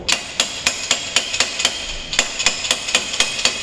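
Steady hammer blows on a metal socket, driving a part home on a Suzuki GT125 motorcycle being rebuilt; about a dozen sharp, evenly spaced close metallic strikes with no talk.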